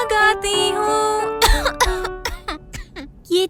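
A cartoon character coughs and clears its throat partway through singing a song, with a held sung tone giving way to several sharp, close coughs in an irregular burst, loud and clear.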